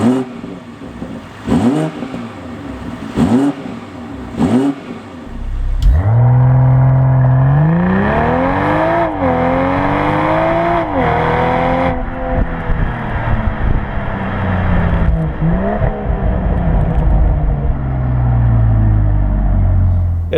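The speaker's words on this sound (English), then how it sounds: "It does sound okay at higher RPMs, and at lower RPMs it kind of sounds like a 4-cylinder" A 2021 BMW M440i xDrive engine revs loudly and close by, its deep exhaust note climbing and falling through several sweeps after a few sharp clicks.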